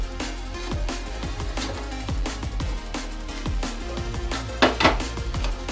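A pressure cooker lid is removed and opened after the pressure has dropped while cooking avarakkai rice, heard as a run of close metallic clinks and knocks with a louder clatter near the end, no talking.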